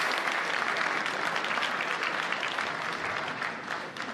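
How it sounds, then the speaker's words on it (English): A conference audience at a security forum gives dense, sustained applause throughout, a steady wash of many hands clapping at moderate loudness, easing slightly toward the end. "Let's offer a round of applause."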